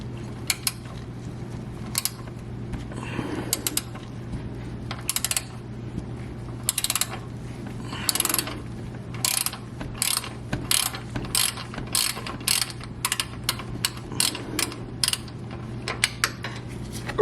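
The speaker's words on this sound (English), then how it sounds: "Let me grab the socket, the ratchet I mean. Go ahead and slide it on there." Socket ratchet turning a car oil filter loose during an oil change, a long series of sharp metallic pawl clicks in uneven bursts, close and clear over low background noise.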